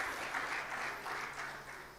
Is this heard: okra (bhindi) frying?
no